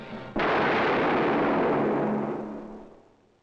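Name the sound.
gunshot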